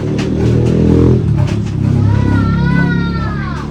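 A cat meows with long, wavering, rising and falling cries near the end, heard over a dense rumbling background at a house in a rural Philippine village.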